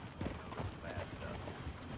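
Horse hooves clip-clop over ground in the Red Dead Redemption 2 video game, a steady muffled trot under a dense layer of game ambience, faint and continuous.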